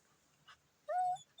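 A puppy searching for a mole lets out a short soft yip, then a clear, rising high-pitched whimper lasting about a third of a second, close by in a quiet setting.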